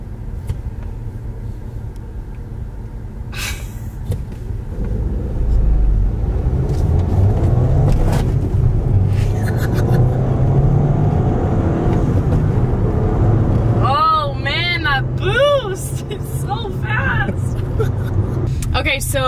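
A manual transmission car pulls away from a stop, its engine rumble swelling as it accelerates and then holding steady, with people talking inside the cabin and a few short chirping sounds near the end.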